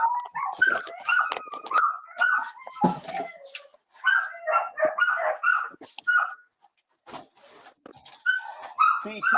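Several dogs, including a small puppy, bark, whimper and howl repeatedly at close range inside a house during a police bodycam recording, with a voice talking faintly in places.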